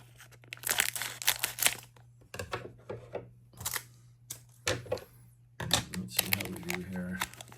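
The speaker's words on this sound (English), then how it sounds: "let me go ahead and get some scissors out here and cut this open." Crisp snipping and crinkling as scissors cut open the plastic wrapper of a card pack, in short bursts separated by pauses, with a person talking between cuts.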